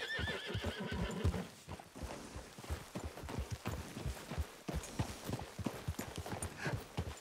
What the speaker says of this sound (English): Batendo o cavalo, dando pesado, o cavalo nem mexe.